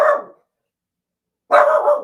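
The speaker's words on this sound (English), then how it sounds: "My dog's telling you." A dog gives two sharp, loud barks, close to the microphone and separated by about a second of silence.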